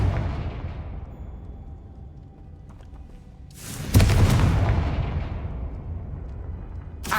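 Confringo fire spell cast in a wizarding video game: a sudden loud blast bursts out after a low rumbling ambience, then a roaring, crackling wash slowly decays over the following seconds.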